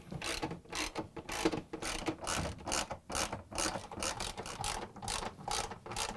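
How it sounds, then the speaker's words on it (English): A ratchet wrench drives 10mm bolts into an LG/Kenmore washer clutch assembly, a series of quick close clicking bursts with short pauses between strokes and no talking. "we're going to install 4 10mm screws here"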